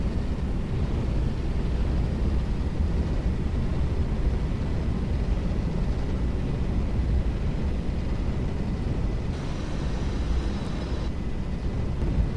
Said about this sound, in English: Thrust reverse.